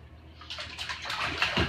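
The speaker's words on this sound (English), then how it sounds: "Oh, splash." Water splashes and sloshes in a bathtub, a short close burst of churning that builds and grows louder toward the end, with no voices.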